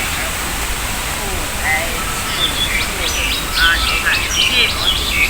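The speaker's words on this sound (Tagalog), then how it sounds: "Ang gandang pakinggan ng mga ibon." Many small birds chirping and twittering in Kowloon Park, Tsim Sha Tsui, Hong Kong, scattered calls over a steady rush of background noise like a fountain or waterfall, growing busier toward the end.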